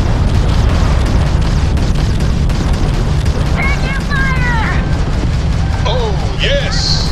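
Heavy starship cannon fire and explosions in the Starfield space combat game, a dense continuous roar of blasts and booms with synthetic electronic warbles over it, loud and sustained throughout.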